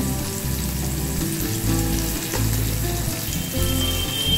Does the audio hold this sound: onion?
yes